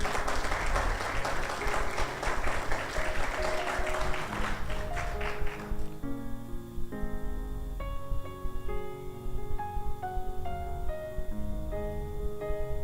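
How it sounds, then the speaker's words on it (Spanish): Congregation applause at a church service, loud and dense for about five seconds before giving way to sustained keyboard or organ-like tones that continue alone. "Dale un aplauso al Señor"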